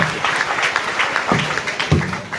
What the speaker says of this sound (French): Encore une fois de plus, applaudissements pour le gouvernement